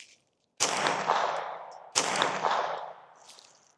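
Two sharp reports from a suppressed .22 firing Winchester 40 grain ammunition crack out about a second and a half apart, each followed by a long, fading echoing tail, near and loud.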